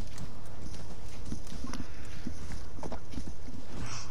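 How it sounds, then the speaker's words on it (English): Horse hooves clip-clop in the video game Assassin's Creed Valhalla, a steady walking rhythm, each step a crisp knock over a dense, constant background wash. "Somehow my horse was able to reach me on top of the mountain."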